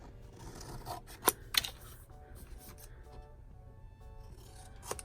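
Scissors cutting paper for a craft gift tag box, a few crisp close snips among soft rustling and rubbing of the paper, quiet overall.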